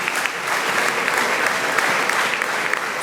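An audience claps steadily at a church choir event: dense, sustained applause from a crowd, even and continuous throughout with no pauses.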